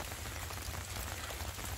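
Rain falling in a forest in December, a steady close patter on leaves and ground, continuous and even.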